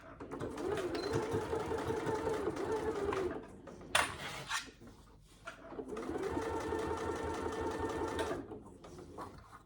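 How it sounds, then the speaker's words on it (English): A sewing machine runs a long, steady whirring stitch along a saddle bag seam, stops briefly around a short clatter and some handling, then starts up again close by. "I'm just going to position my needle on that top seam and start sewing."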